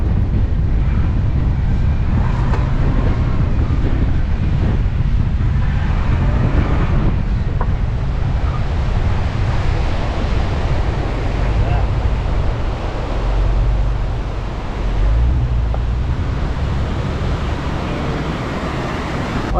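Strong wind buffets the microphone at a beach near Esperance, a loud continuous roar with surf mixed in, easing slightly near the end; no clear talk is heard.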